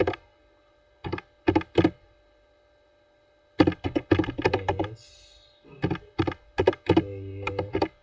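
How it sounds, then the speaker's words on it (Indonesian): A command typed on a computer keyboard, in short clustered bursts of crisp close keystrokes separated by pauses, with no talk. "selanjutnya kita langsung ketik python"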